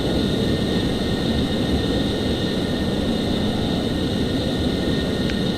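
An F-14 jet taxis in the Microsoft Flight Simulator X game, giving a loud, continuous engine roar with a steady high whine that stays constant throughout.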